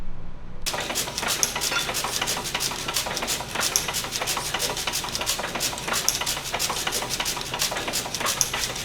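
A motor-driven press runs steadily after a quick start, producing a dense, rapid mechanical clatter with regular knocking pulses at close range; no one speaks.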